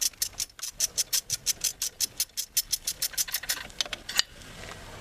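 Ratchet wrench on an extension backing out bolts on a 1996 Ford Ranger engine during a timing belt change, a quick steady series of about twenty sharp close clicks, then a pause and a few more.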